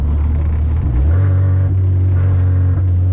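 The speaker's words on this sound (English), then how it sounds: "You can hear vtec just crack, dude" A Honda Civic with a K24 engine revving hard, loud and close, the note jumping sharply into a higher, harder VTEC howl about a second in and holding there.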